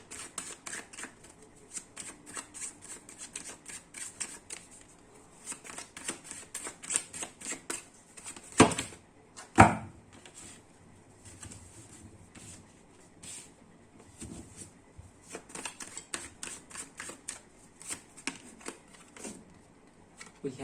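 Tarot cards shuffled and laid out on a table in quick, soft riffling bursts that recur throughout, with a couple of sharper slaps near the middle and occasional quiet talk in between.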